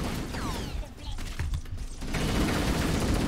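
Weapon fire in Halo 1 rattles in rapid bursts with mechanical clanks and whines, dense and loud throughout, ending in a steady stream of shots.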